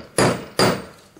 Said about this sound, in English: into a hole that it fits into, and then move down and hammer again